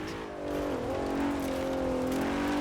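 An Audi with an RS6/RS7-derived engine in Forza Horizon 4 revs loudly and steadily, its tone climbing and holding as the car accelerates, close and alone without talk.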